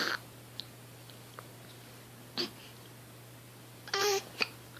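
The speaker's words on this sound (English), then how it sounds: "now you got the hiccups." A baby hiccups in short, sharp bursts spaced a second or two apart, heard close in a quiet room with faint breathing and small mouth sounds between.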